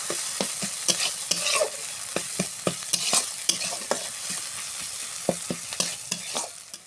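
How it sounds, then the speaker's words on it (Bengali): A spoon scrapes and knocks repeatedly against a pan while taro flowers cook with salt and turmeric, the rhythmic stirring clatter sitting over a soft steady sizzle, close and without voices. "একটু হলুদের গুঁড়ো দিয়ে আবারও নেড়ে নেব।"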